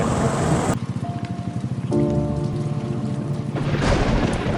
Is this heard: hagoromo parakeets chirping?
no